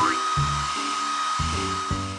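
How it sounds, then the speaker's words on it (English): A PAW Patrol game's hair dryer gives off a steady whirring hum over a thin high whine, with soft low music notes changing underneath. "Tap the hair dryer."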